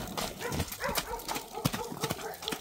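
Hooves clip-clopping in a quick, uneven rhythm as a healthy horse being shown for sale moves about close by, with someone talking over the footsteps.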